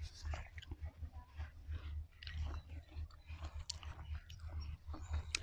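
Close, wet chewing and crunching of Kaew Khamin mango eaten with spicy jaew dipping sauce, in repeated bites and rhythmic mastication with faint whispery mouth sounds.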